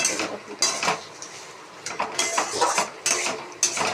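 Pointed gourd being stirred with spices in a metal pan, a series of loud, close scraping and clattering strokes of a ladle against the pan in an irregular rhythm, with no speech.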